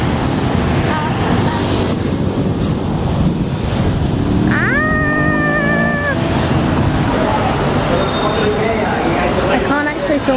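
A train rumbles along the rails with a loud, steady clatter; midway a sharp wheel squeal rises and holds briefly, with faint voices in the background.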